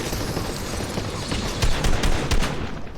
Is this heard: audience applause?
no